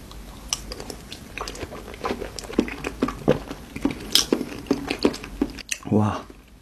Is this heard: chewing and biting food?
yes